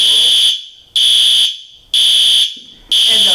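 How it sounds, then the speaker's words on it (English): A fire alarm blares at a student event, loud, shrill electronic beeps repeating in four even pulses about a second apart, each cutting off sharply before the next. "the fire alarm went off in the middle of the awesome part right there"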